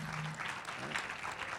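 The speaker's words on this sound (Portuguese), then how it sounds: "Vamos dar uma salva de palmas para eles" A conference audience applauds the panelists at the end of a Brazilian internet forum session. The clapping is faint and distant, a continuous patter with a few voices murmuring underneath.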